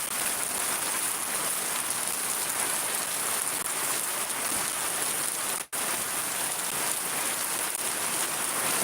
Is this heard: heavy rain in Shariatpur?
yes